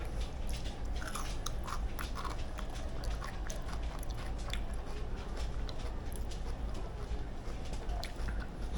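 Crisp, steady crunching and chewing of thin, paper-cut raw jicama fries, close up and fairly quiet, with repeated bites running continuously and no talking.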